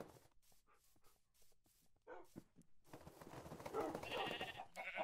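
Minecraft sheep bleat alongside yapping dogs, short rapid calls at first, then a denser, louder stretch of overlapping animal cries in the second half.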